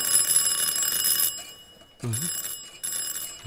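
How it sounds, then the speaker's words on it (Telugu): A bright electronic bell rings loudly in bursts, cutting out briefly and then resuming, close and alone with no talk. "ఏ ఎదవో బెల్ల కొడుతున్నాడు, వాడికి స్వాగతం పలకండి."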